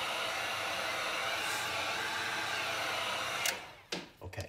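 A hair dryer blows steadily over freshly airbrushed flame paint, a loud, even whoosh that cuts off near the end, followed by a few brief handling knocks.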